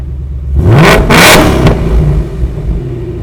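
A Whipple-supercharged 2019 Ford Mustang 5.0 with active exhaust set to track mode blips its throttle in two or three loud, close revs that flare up sharply, then settles back into a deep, rumbling idle.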